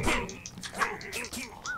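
A dog in the video game Minecraft Dungeons gives a series of quick barks and yips, close and moderately loud, mixed with overlapping chatter.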